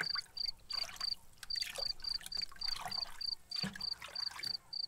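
A radio-drama bog ambience with a regular high chirping insect pulse over soft, murky trickling and dripping water, faint and continuous with no speech.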